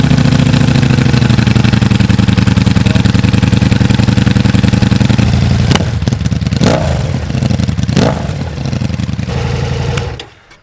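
A Ducati Diavel V4 motorcycle fitted with an Akrapovic full race exhaust idles loudly and steadily up close, then gives a few sharp blips of throttle before shutting down.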